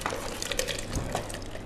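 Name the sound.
breadfruit soup poured into a blender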